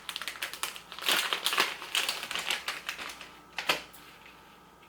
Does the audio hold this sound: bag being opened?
yes